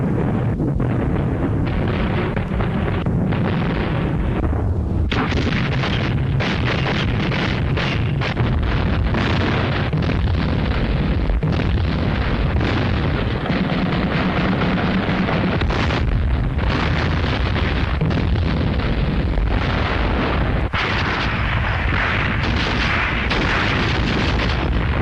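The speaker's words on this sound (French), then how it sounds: "Dans la nuit du 11 mai, un violent tir d'artillerie précède l'attaque." A violent night artillery barrage preceding an infantry attack in the Second World War, heavy booms and explosions rolling almost continuously, loud and relentless with overlapping blasts.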